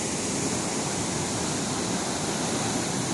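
Water rushes steadily through the gate of a canal headworks at the Qadirabad barrage. It makes a loud, continuous roar close by, with no breaks or other sounds.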